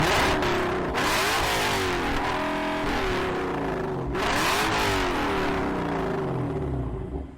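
Naturally aspirated V8 of a Lexus RC-F with aftermarket exhaust revving hard, two loud sweeping throttle blips rising and falling over a deep rumble, close and without voices.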